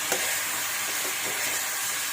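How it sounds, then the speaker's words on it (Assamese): Chicken pieces sizzle and fry with turmeric in a hot pan, a dense, steady crackling hiss close up with occasional stirring scrapes. "মাংসটো কিন্তু একদম ভাজিব নালাগিব বেছি, ইমানে ভাজিব।"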